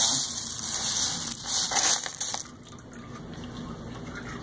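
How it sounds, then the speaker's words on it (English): Water pumped into an aquaponics media bed of clay pellets gushes and splashes steadily at close range, then eases to a quieter trickle as the bed fills. "where eventually the water fills up. You can see the water filling up"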